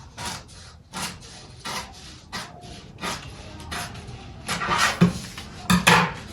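Scissors trimming excess paper from a traced dress pattern, a series of crisp snips and paper rustles in an irregular rhythm, growing louder and busier toward the end, close with no talk.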